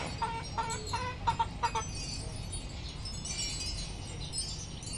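Yellow-legged Gilmore chickens, four months old, cluck in a short run of repeated calls early on, moderately close, over a steady outdoor background hum.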